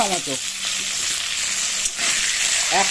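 Tomatoes hit onions frying in hot oil, giving a steady, close sizzle that carries through the whole stretch, with brief stirring scrapes and a momentary dip partway through.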